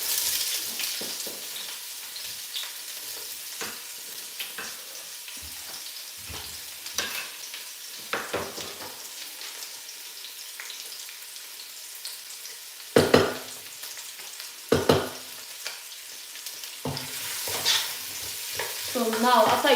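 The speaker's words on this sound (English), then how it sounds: "So now, after you put your onions, all you have to do is just keep on stirring." Onions fry in a pan with a steady low sizzle while a utensil stirs and scrapes them, giving sharper louder knocks near the end. The sound is close, with no voices, in a kitchen where Nigerian meals are being prepped.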